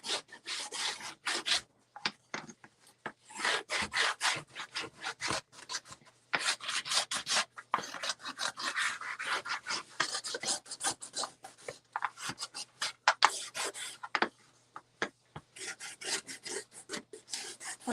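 Wax being scraped off a wooden surface with a hand scraper: repeated close, dry rasping strokes in quick irregular bursts, with short pauses between runs.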